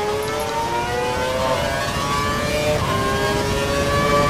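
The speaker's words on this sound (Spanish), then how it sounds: "Creemos que el piloto que te persigue lleva el motor al máximo de revoluciones para recortarte tiempo." Racing car engine held at maximum revs in a racing video game at the Korean Grand Prix, a loud, sustained high-pitched whine with slight pitch shifts, close and continuous with no talk.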